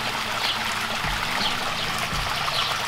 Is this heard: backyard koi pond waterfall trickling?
yes